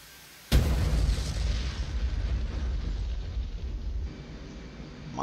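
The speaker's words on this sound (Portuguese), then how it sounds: "Bateu, explodiu e muito efetivo mesmo essa bomba." A GBU-24 Paveway III laser-guided bomb hits and explodes with one sudden loud boom, then a long rumbling roar that slowly fades.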